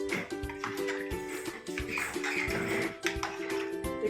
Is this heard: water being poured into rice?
yes